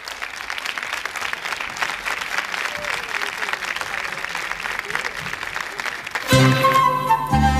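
Warm audience applause at a festival for a folk group, steady and crowd-wide for about six seconds before music with strummed instruments starts up loudly.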